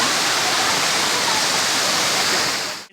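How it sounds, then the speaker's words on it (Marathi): The Gaganagiri Maharaj waterfall at Khopoli roars close and loud as a dense, steady rush of falling water with no break, cutting off abruptly at the end. "आम्ही सर्वजण आलो इथे धबधब्यावर."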